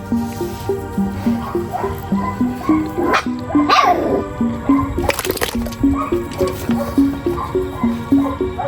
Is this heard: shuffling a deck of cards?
no